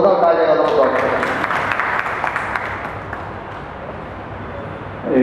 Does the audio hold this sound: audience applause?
yes